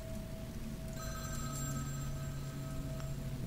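A telephone rings inside the video game Vampire: The Masquerade - Bloodlines, a thin electronic trill starting about a second in and repeating over a quiet low hum.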